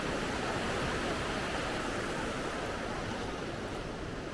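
A creek flows beneath a gapped timber bridge at an old gold mining area, giving a steady, full rushing wash of water with no voices.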